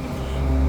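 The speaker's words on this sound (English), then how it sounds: "there's a garbage truck." A garbage truck rumbles past on a street at night, a low engine drone growing slightly louder over a brief moment, with no voices.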